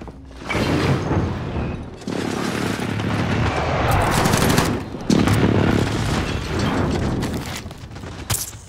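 Gunfire in a shooter video game crackles in dense, rapid bursts of automatic fire with booming hits, loud and near, broken by brief pauses between volleys.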